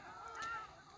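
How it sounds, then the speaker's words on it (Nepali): Water ducks fly over Chitwan National Park in Nepal, giving faint, brief honking calls from a distance over a soft background hum. "जलहाँस भनौँ चराहरू फेरि उडेर यी यता फन्को मार्दैछन्"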